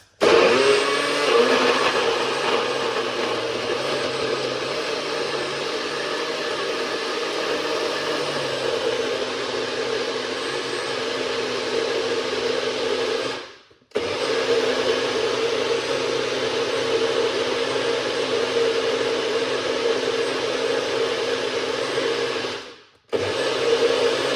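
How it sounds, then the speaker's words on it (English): Blender whirring loudly and steadily as it blends a juice, a dense continuous motor roar that cuts out briefly twice before starting again; no voices. "We're gonna blend up this right here."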